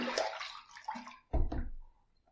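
Adjustable razor rinsed under a running tap, close and quiet, with short bursts of splashing water separated by brief pauses.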